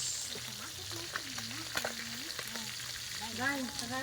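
Vegetables frying in a pan for a Filipino vegetable soup dish, a steady sizzle with scraping stirs, with music or a humming tone running underneath throughout.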